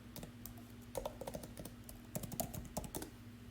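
Quiet, irregular clicking of keys as someone types on a computer keyboard, short bursts of soft taps with brief pauses between them.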